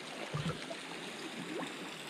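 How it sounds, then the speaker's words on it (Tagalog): Water rushes and trickles steadily at low volume through a leak at a fishpond, a continuous gurgling flow with faint splashes and no voices. "lakas ng tubig oh."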